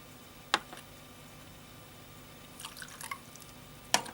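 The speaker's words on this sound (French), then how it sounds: "On va remettre l'eau dans le refroidisseur." Leftover water from warming the cups is poured back into a cooling vessel while Japanese gyokuro green tea is being prepared. Small splashes and drips come close and fairly quiet, with a single drip early, then a short trickling cluster and a final drip.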